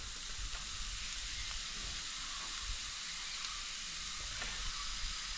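Chopped onion sizzles steadily in a hot frying pan, a continuous bright hiss of frying with faint stirring scrapes now and then.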